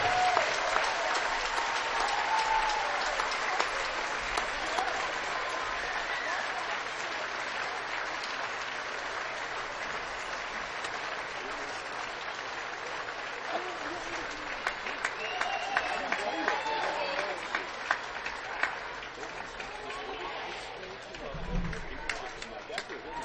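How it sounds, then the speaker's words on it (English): Sustained crowd applause and cheering in a gym for the seniors at a high school girls' basketball senior night, steady and loud throughout, with a voice over the public address partly audible. "one more final round of applause for your 12-16 Norwell seniors"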